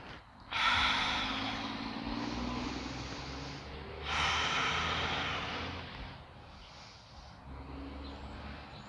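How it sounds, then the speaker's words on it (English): Slow, deep yoga breathing up close: a long audible inhale, a steady exhale, then another drawn-out breath, each rushing and airy. "Big deep breath."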